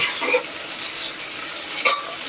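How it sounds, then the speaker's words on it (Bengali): Tomatoes fry in a pan with a soft steady sizzle, while two brief scraping stirs of a utensil stand out near the start and end. "টমেটোগুলোকে নেড়ে ছেড়ে নিয়েছি টমেটোগুলো একটু ভাজা হোক"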